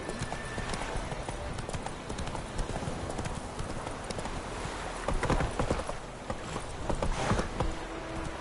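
Horse hooves clip-clop steadily in The Witcher 3, a dense run of close hoofbeats over a rustling, noisy game soundscape that swells slightly toward the end.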